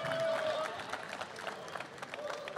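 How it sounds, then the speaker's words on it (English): Audience applause at a Holmatro Rescue Challenge 2022 run-off for a Hungarian fire and technical rescue team: dense, steady clapping throughout, slightly louder at the start, with a voice talking over it. "put your hands together, give them an applause"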